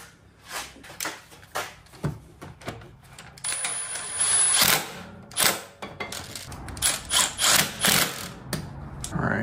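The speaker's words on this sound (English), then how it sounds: "I'm gonna go ahead and put the two bolts back in my bracket right here" Two bolts are threaded into a brake line bracket on a Honda CR-V during a big brake kit install. Close, irregular metallic clicks and rattles come in scattered bursts, growing busier partway through, with no speech.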